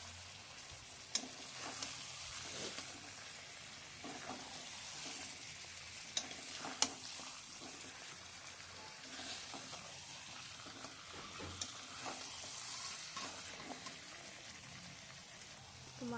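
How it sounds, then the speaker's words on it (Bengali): Chicken with spices being sautéed in a pan with little water, a soft continuous sizzle and bubbling with occasional faint spoon clicks, fairly quiet and even throughout. "তো মাংসটা এখানে আমি কষাচ্ছি।"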